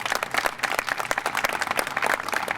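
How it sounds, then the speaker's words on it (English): A crowd applauds the mayor with a dense, continuous wash of clapping, steady and fairly loud throughout, with no speech on top. "just one round of applause again for our mayor"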